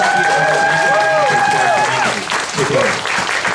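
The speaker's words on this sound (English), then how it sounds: "we need to give each one of these people a big round of applause" Audience applause at an Asian Justice Rally lunch program, dense clapping with a voice audible over it early on, thinning and fading toward the end.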